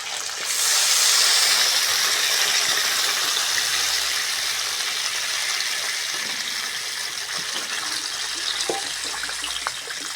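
Water is poured into a hot pan of fried potatoes and pointed gourd, bursting into a loud, rushing hiss of steam that fades slowly to a softer, continuous bubbling sizzle.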